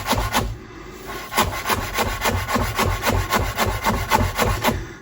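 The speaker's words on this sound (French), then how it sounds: "on va hacher ça" A knife minces an ingredient for creamy shrimp linguine on a wooden board, rapid rhythmic chopping taps rolling steadily and close for several seconds without talk.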